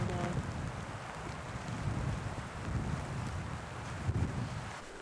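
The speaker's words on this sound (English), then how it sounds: "This mountain storm just rolled in, and it's windy too." Strong wind from a mountain storm roars and buffets the microphone continuously, a rough, gusty rumble filling the whole stretch with no pauses.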